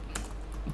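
Quick typing on a computer keyboard while coding a web page, a few light, close key clicks in a short burst over faint background hum.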